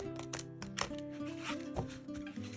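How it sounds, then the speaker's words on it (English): Large oracle cards are shuffled by hand in an overhand style, giving soft repeated slapping and flicking taps at an uneven rhythm, close and quiet, with no one talking. "these oracle cards are hard for me to shuffle because of the size"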